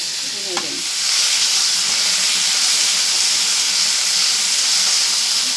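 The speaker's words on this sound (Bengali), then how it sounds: "কালো জিরে ফোড়নটা দিয়ে কিন্তু আমি আলুটাকে একটু ভেজে নেব" Potatoes fry in hot oil tempered with black cumin for a shrimp curry: a single light clink, then a loud, dense, steady sizzle that holds close and unbroken.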